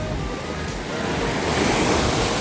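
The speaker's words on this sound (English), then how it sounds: "the waves are coming in really strong" Strong ocean waves breaking on the beach at Ocean City, New Jersey, a steady roaring wash of surf that grows louder toward the end, with wind buffeting the microphone.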